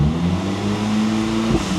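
A Porsche 997 911 Turbo at full throttle, its engine holding a loud, steady tone close by for about two seconds with a brief shift near the end.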